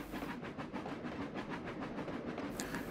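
Freight train running in the Trainz simulator game, a steady rhythmic clickety-clack of wheels over rails with a continuous rumble, no voices.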